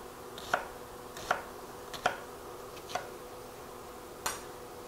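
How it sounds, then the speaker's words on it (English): Knife slicing through an onion on a cutting board, five crisp separate chops spaced about a second apart, close and fairly quiet over a faint room hum. "We're going to cut the onion in half. Just make slices."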